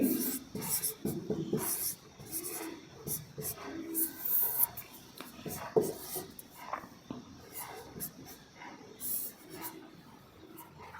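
Marker or chalk strokes on a board during a Hindi chemistry lesson on water hardness, scratchy intermittent writing sounds close by, mixed with a teacher's speech.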